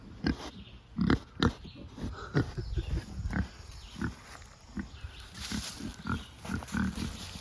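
A pig rooting in a woodland paddock on a farm, giving a series of close, low grunts and snorts in irregular bursts, with quiet gaps between them and no talking.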